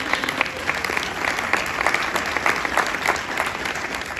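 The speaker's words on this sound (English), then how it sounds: "So round of applause for that." Conference audience gives a round of applause after a recruitment announcement, a steady, dense clapping that runs throughout.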